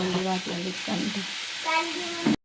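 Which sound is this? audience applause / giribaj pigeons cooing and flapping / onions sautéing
onions sautéing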